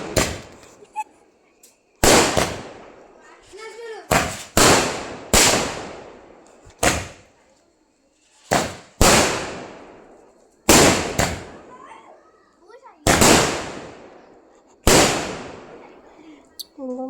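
Firecrackers burst at a birthday celebration outdoors, about a dozen sharp loud bangs at irregular intervals, each ringing out and decaying before the next, with quiet gaps in between.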